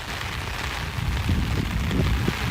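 Steady outdoor rain hisses across a broad wash at moderate, even loudness for the whole stretch, with low rumbling gusts that may be wind or handling noise underneath, and no voices.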